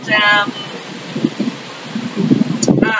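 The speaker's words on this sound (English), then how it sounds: "Ooh, the wind's really picking up." Gusty wind outdoors buffeting the microphone as a low rumbling roar that swells and eases over a few seconds, with faint rustling mixed in.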